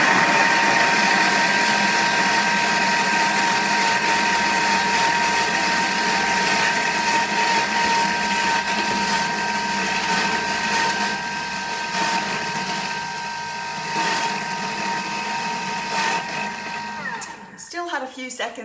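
A kitchen blender runs at speed 6 on curry powder, salt and pepper with the measuring cup inserted, a steady loud whirring drone for most of the clip before it cuts off near the end.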